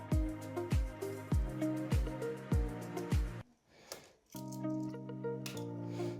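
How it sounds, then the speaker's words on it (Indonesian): Packaging of a Philips wireless mouse being unboxed, with a series of sharp, evenly spaced plastic clicks and rattles up close, a brief quiet break, then steadier crinkling handling noise. "langsung aja kita unboxing untuk mouse-nya"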